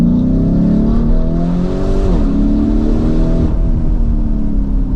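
A loud turbocharged Lamborghini Urus engine revs hard and accelerates, its pitch climbing, dipping at a gear change, then rising again, close and continuous.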